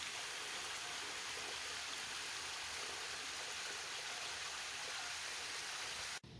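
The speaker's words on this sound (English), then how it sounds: "The water sliding down this rock." Water slides down a rock in a continuous soft rushing trickle, steady and fairly quiet, with no voices.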